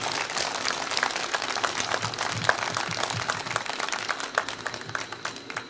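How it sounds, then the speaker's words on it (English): Audience applause for a musician at a Tibetan meditation music concert at Songgwangsa temple, a steady, dense roll of many hands clapping with crisp individual claps throughout. "Please applause to him."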